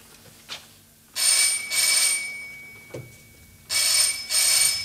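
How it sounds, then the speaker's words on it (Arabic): Old-style telephone bell ringing in an Egyptian TV drama, two loud double rings separated by a quiet gap, with a couple of soft knocks in between. "رد على التليفون"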